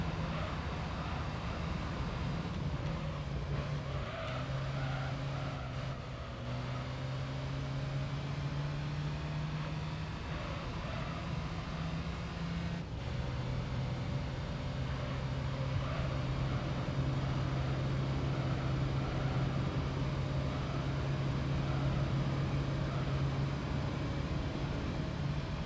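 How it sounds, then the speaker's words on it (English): A Toyota Vitz engine held at full throttle in Gran Turismo 3 gives a steady, unbroken drone with a slowly shifting pitch, loud and continuous throughout the run. "I full throttled it through the fucking tunnel"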